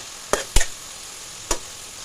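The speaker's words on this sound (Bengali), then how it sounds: "এবার ভালো করে নেড়েচেড়ে পেঁয়াজের পেস্টটাকে কষে নেব" Onion paste frying in a pan, a steady soft sizzle under three sharp clinks of a spatula stirring against the metal.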